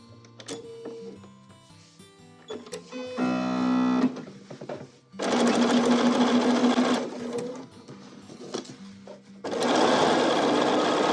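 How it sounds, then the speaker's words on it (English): A sewing machine stitches quilt fabric in several bursts, each a loud steady mechanical whirr lasting about one to two seconds, with quiet handling pauses between them. "we're going to start from my edge and sew towards my center"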